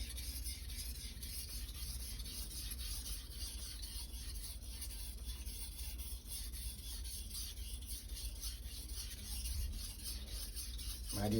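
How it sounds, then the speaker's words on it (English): An SG2 steel Nakiri knife blade is drawn over a sharpening stone, producing a continuous, quiet, gritty rasping rub that repeats steadily at close range. "is my first time sharpening this blade"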